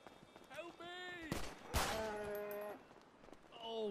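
Sharp gunshots in the video game Rust, two prominent cracks near the middle, fired at a cow amid shouting and strained, rising vocal cries.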